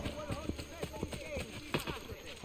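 Horse hooves clip-clop in a quick, uneven rhythm during Assassin's Creed Brotherhood gameplay, with sharp close knocks under someone talking.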